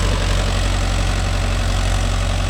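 A Mahindra Yuvo Tech Plus 585 4WD tractor engine runs steadily and loudly, a continuous low diesel drone with no pauses and no talk.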